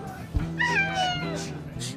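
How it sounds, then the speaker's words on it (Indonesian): A cat gives a couple of close, clear meows with rising and falling pitch, a short cry following the first, over a faint low background hum. "Kucing siapa nih?"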